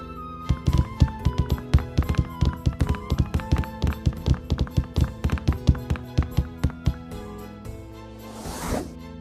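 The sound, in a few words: footsteps in the video game Ceville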